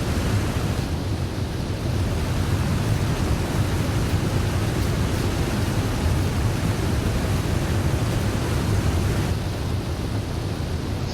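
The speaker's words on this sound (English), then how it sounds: "I think this is probably one of the best sounding waterfalls I've ever heard in a video game." Waterfall in the survival video game The Long Dark, a steady, loud, dense roar of rushing water that holds evenly throughout with no voices.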